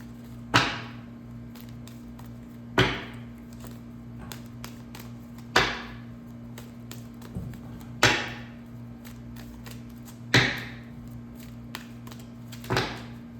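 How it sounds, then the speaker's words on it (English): Tarot cards being shuffled in a second stage: six sharp, evenly spaced riffle snaps about every two and a half seconds, each with a short fading rattle, close by and with no talking. "Now we're going into the second stage of shuffling."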